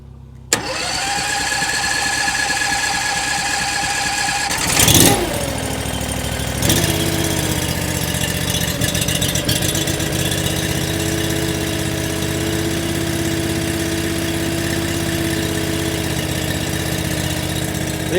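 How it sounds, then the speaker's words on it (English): A homemade log splitter's small engine cranks with a sharp pull, catches after a few seconds, stumbles and surges briefly, then settles into a steady, loud, close idle. "Now we can give the log splitter an old cold start as well"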